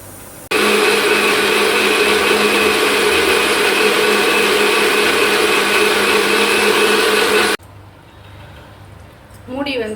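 A kitchen mixer grinder whirs loudly and evenly for about seven seconds while grinding pepper, cumin and fennel seeds for mutton kuzhambu, then cuts off abruptly, leaving quiet handling sounds.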